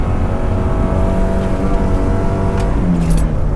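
Engine of a Volvo 740 roaring steadily while drifting on snow, heard close from inside the car, a loud continuous drone with rising tones near the end and no speech.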